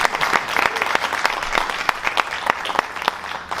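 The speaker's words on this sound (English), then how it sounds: "Yeah, you can clap." Lively audience applause at an HP product unveiling, a burst of scattered and overlapping hand claps with some distinct individual claps, moderately close, with no voices heard.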